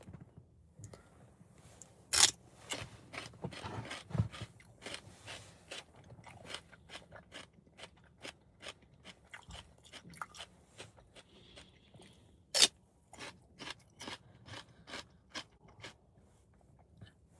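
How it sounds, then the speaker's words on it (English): Crunchy chewing of raw celery close to the mouth, a steady series of sharp crisp bites and crunches at irregular intervals, with a couple of louder snaps standing out against a quiet background. "Is this too loud, the celery chewing?"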